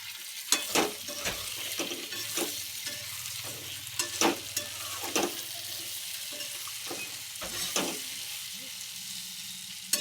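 Spice powders, coriander-cumin powder and garam masala, stirred into a frying Surat-style aubergine curry: a steady close sizzle under repeated scraping spoon strokes and a few sharper clinks against the pan, with no voices.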